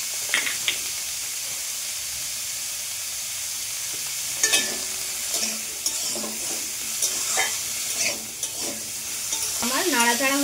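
Vegetables with salt and turmeric powder frying in a pan, a constant hissing sizzle under repeated spatula scrapes and clinks that grow busier toward the end, close by with no voices.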